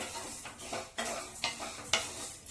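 Black urad dal dry roasting in a pan rustles and scrapes as it is stirred, with several distinct stirring strokes and soft metallic clinks, fairly quiet and close.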